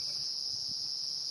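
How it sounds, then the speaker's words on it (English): Cicadas call on a safari drive after light rain, a steady, unbroken high-pitched buzz that carries evenly at moderate loudness. "cicadas have come out of the ground, some of them, and you can hear them calling"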